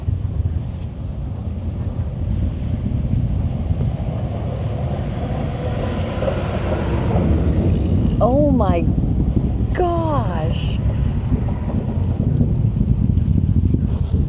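Low, steady rocket launch rumble swelling slowly over wind noise, with a voice exclaiming briefly partway through.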